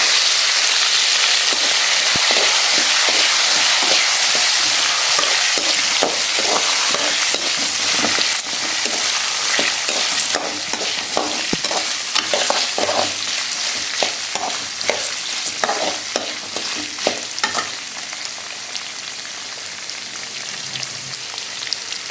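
Onion and garlic sautéing in hot oil in a pan for pirandai thuvaiyal, with a loud hissing sizzle at first that gradually softens, broken by frequent scraping and tapping of a spatula.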